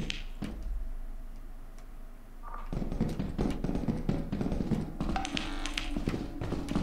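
A turret in the game Lethal Company fires in rapid, clattering bursts of sharp ticking shots that start at around two and a half seconds and keep going loud and dense to the end.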